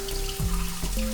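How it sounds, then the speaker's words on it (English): Rice being rinsed in a bowl of water, with soft swishing and trickling water sounds close by and no talk. "we're just gonna do a basic rinse just like we do anytime we're cooking with rice"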